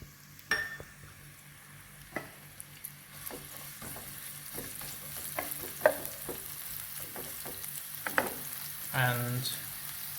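Finely chopped onion fries in about a tablespoon of ghee, a soft continuous sizzle broken by scattered clicks and scrapes of a spoon stirring the pan, close by, with a brief louder clatter near the end and no speech.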